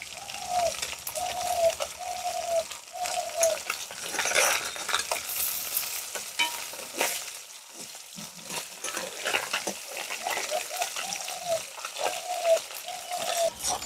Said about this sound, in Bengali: অন্যদিকে ভাজার জন্য উল্টে দিচ্ছি।